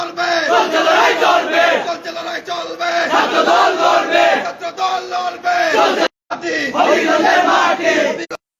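Student party activists chant slogans in unison at a protest outside a court in Habiganj, a loud crowd of voices in rhythmic repeated phrases, with one brief gap before the chanting resumes.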